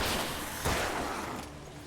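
A rapid burst of gunfire rattles out in the video game Alan Wake Remastered, loud and dense at first, then trailing into a fainter, noisy tail with no voices.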